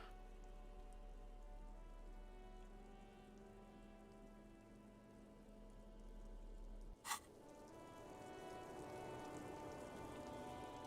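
Steady rain patters on surfaces in the video game Disco Elysium, a soft continuous hiss broken by one brief sharp click partway through, with no talking.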